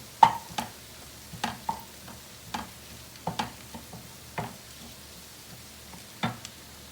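Food stirred and moved around in a frying pan before rice goes in, a run of sharp scraping clicks and taps at irregular intervals over a faint low sizzle.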